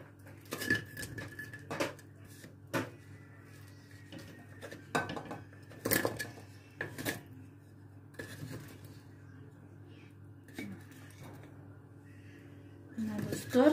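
Metal utensils clink and scrape against a kazan and plate as samsa pastries are lifted out one by one, a string of sharp, close clatters spread through the clip with quiet pauses between them.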